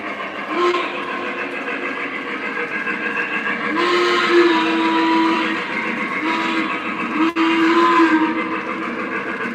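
A model train rumbles steadily along the track, its whistle tooting in several short blasts over the running noise.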